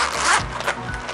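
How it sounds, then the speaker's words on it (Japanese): A stiff zipper on a clear plastic two-way bag from a magazine freebie is dragged open in a couple of close, raspy pulls, with no talking over it. "チャックは、あ、ちょっと硬いかなちょっと硬いかな"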